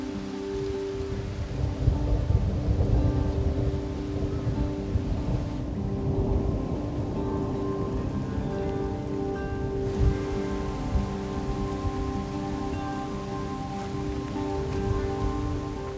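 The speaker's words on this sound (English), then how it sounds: "Experiencing thunderstorms during a desert winter is especially rare and beautiful." Steady rain falls during a winter thunderstorm in the desert, a continuous dense patter that holds through the whole stretch, with faint tonal sounds layered over it and no voices.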